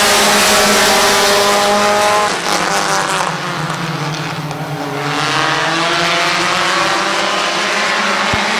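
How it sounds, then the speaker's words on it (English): Race cars roar away at the start of an 8-lap heat race at Midvale Speedway. The loud engines drone in layers and their pitch rises and shifts as the pack accelerates. "Green flag in the air, 8-lap heat race number 3."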